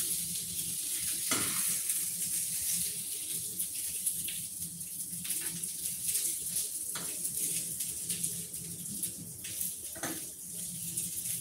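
Dumplings fry in a pan for a home-cooked lunch, a steady crackling sizzle running throughout with occasional louder spatters and stirring clatter, close and continuous with no talk.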